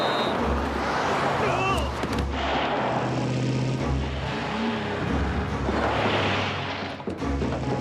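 A vehicle roars at full throttle during a chase after a stolen postal van, loud, rumbling engine noise mixed with heavy booming bursts throughout.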